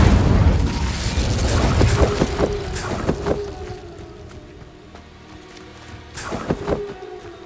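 Spell effects from Hogwarts Legacy as the fire spell Incendio is cast: a run of booming, bursting impacts with sharp cracks, a rumbling low body that fades, then another cluster of loud bursts near the end.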